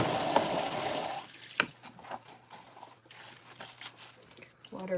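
Water running from a tap, a loud steady gush for about a second before it cuts off, followed by quieter drips, clinks and handling noise with a voice speaking.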